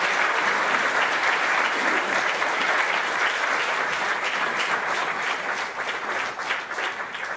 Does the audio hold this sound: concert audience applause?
yes